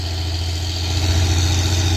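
A Hino truck sits stalled on an incline it failed to climb. Its diesel engine idles with a steady low rumble and vibration, close and loud, with no talking.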